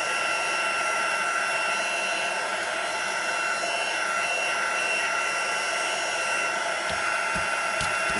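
A handheld heat dryer blows steadily and continuously over cardstock during card making, a constant close whirring drone with a few faint taps near the end.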